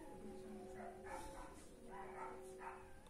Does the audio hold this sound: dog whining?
yes